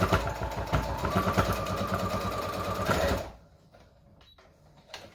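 Sewing machine stitching a scrub cap, running steadily with a fast, even whirr for about three seconds and then stopping, with faint handling noises afterward.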